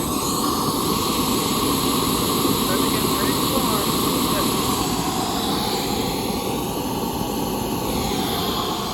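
A burner roars steadily and loudly as it fires a homemade raku kiln, a continuous broadband rush filling the whole clip while a person talks over it.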